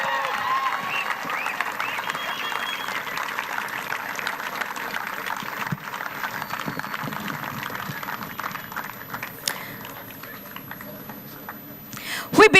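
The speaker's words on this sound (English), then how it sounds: "Can we give them all a big round of applause?" Audience at a cricket tournament prize ceremony applauds with steady clapping at moderate distance, tapering off gradually, with voices mixed in.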